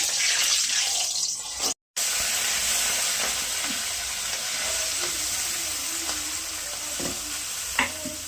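Fish frying in mustard oil in a wok gives a loud, continuous close-up sizzle and crackle, briefly cut by a short dropout, with a few sharp clicks near the end and no voices.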